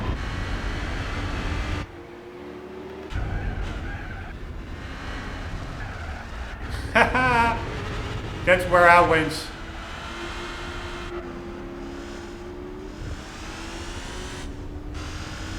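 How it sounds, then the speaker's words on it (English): Car engine in Gran Turismo 4 with a thin, whiny, vacuum-cleaner-like drone, steady with brief revving swells, while a person speaks briefly over it. "this is like quintessential bad car sounds from Gran Turismo. It really sounds like a vacuum cleaner."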